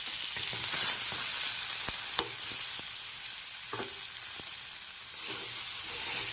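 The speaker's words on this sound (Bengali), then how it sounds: "এখন নুন দিয়ে একটু টমেটোটা নেড়ে ফেলে নিচ্ছি যাতে একটু নরম হয়ে যায়" Tomatoes being stir-fried with salt and turmeric in a pan sizzle steadily, with a hiss running throughout and occasional sharp taps and scrapes of a spoon as it stirs.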